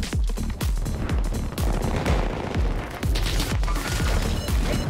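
Gunfire in a video game rattles out as a rapid, loud string of heavy shots, each with a booming thump, firing nearly nonstop at close range with no talking.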